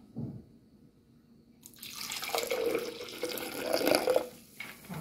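Vinegar pours steadily into a blender after a brief quiet start, a continuous splashing, gurgling stream that grows slightly louder before tapering off.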